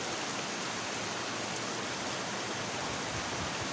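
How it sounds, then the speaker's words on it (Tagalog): Continuous heavy rain pouring onto a flooding street, a dense steady hiss with no breaks and no voices. "Pag tuloy-tuloy yung ulan."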